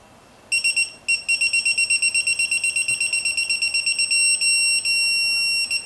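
A torque wrench emits a rapid series of high-pitched electronic beeps on reaching its set torque, about two dozen pulses in fast succession turning into a steadier tone, loud and close against quiet background during head gasket work on a twin turbo G8.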